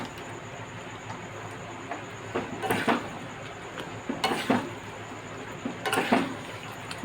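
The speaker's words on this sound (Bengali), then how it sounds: "এবার একে ভালো করে নাড়িয়ে নেবে।" Besan gatte being stirred in a pot, giving a few scattered bursts of scraping and clinking from the utensil against the vessel, fairly quiet, with no voices.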